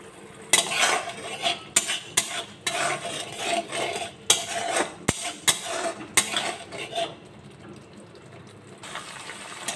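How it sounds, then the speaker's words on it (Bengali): Spice ingredients with a little salt are stirred and sautéed in a pan, with repeated scraping and clinking of a utensil against the metal in uneven bursts over a low sizzle, close up, fading quieter near the end. "উপকরণগুলো আমি একসঙ্গে ভালো করে এবার কষিয়ে নেব"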